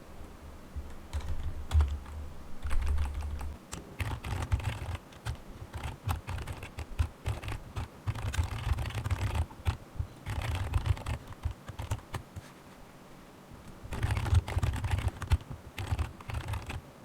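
Keys clatter on a computer keyboard as Python code for a trading robot is typed, with quick irregular bursts of clicking and brief pauses across the whole stretch. The sound is close and clear, with no talking.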